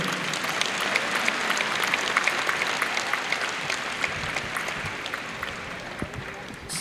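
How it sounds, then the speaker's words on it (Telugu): Dense, sustained applause from an audience at the Swarabhishekam musical show in Dallas fills the room, a steady crackle of many hands clapping that fades slightly toward the end. "మీ అందరూ చప్పట్లు కొట్టండి"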